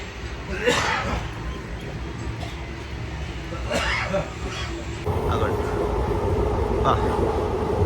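The Repalle Express (17645) pulls away from a station, a low continuous rumble of carriages with faint clanks, the noise building and roughening as it gains motion, while a voice speaks briefly.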